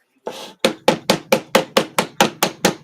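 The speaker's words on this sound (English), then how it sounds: "you can use a hammer or something else and hammer them down" Hammer tapping staples down into a wooden canvas frame for a reverse canvas craft: one soft knock, then about nine sharp, evenly spaced strikes in quick steady rhythm, close and loud.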